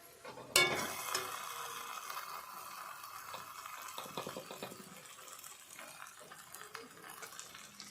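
Cabbage frying in a pan, a faint soft sizzle with a sharp clatter near the start and light intermittent stirring scrapes, quiet and close with no speech.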